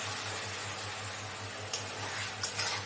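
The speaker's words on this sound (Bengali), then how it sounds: "দেখুন এটা আমার ভাজা ভাজা হয়ে গেছে তো সামান্য একটু আমি এর মধ্যে জল দিয়ে দেব" Chilli chicken fries in a pan with a steady sizzle, and water is splashed in, bringing a couple of short bursts of sharper hissing near the end over a pulsing low hum.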